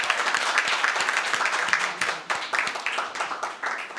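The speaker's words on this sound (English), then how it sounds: "let's give them both a round of applause" An audience at a public sector debate competition claps for the two speakers, a moderate burst of mixed clapping that thins into scattered, uneven claps toward the end.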